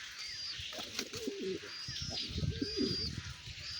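Young racer pigeons coo on a rooftop on a cloudy, rainy day in a few soft, throaty phrases, close by and fairly quiet. Faint high chirps and outdoor background hum sit behind them.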